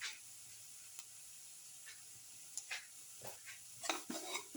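Spices stirred into a potato and tomato casserole mixture: soft scraping and light clinks of a spoon against the pan, faint and close, growing a little busier toward the end over a quiet sizzle.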